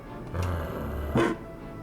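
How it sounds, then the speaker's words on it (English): A robot dog in the video game The Legend of Heroes: Trails through Daybreak gives a short, faint, electronic-sounding bark with a low growl over quiet background music. "He has a robo-dog."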